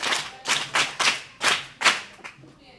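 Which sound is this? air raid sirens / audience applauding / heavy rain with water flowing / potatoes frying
audience applauding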